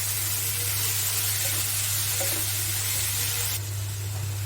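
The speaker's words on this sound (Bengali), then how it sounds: "আগে থেকে ধুয়ে রাখা খুদের চাউলগুলো দিয়ে দিলাম ভাজার জন্য" Washed broken rice goes into hot oil with onion and chilli, sizzling in a steady, close, even hiss over a low constant hum that eases slightly toward the end.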